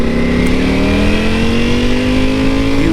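Ducati motorcycle engine running and revving, a steady loud close-up drone whose pitch climbs slowly across a few seconds, with no talk.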